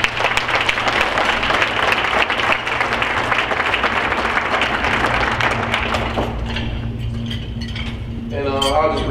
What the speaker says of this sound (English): Everybody, let's give a round of applause for Damaris Johnson.